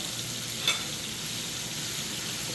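Three garlic cloves frying in oil in a pan give a steady, soft sizzle with a brief clink near the start, and no one speaks.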